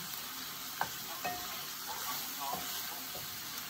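Chicken sautéed with ginger and garlic for tinola hisses with a steady sizzle in a pan, with occasional spatula scrapes and knocks, fairly close and even.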